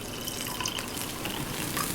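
Liquid pours in a continuous gushing, trickling stream as a sampled layer within a calm song, dense and close with faint drips riding on top.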